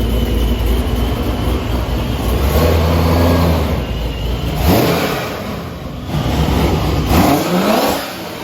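A supercharged Ford F150 truck engine runs on a dyno, revving loudly and climbing through the RPMs with rising pitch sweeps, then dropping and revving up again as it shifts, up close with no talk.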